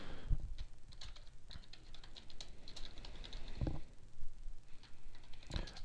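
Fingers type a file name on a computer keyboard in quick, irregular keystrokes, with a few sharper clacks and brief pauses, recorded close and quiet.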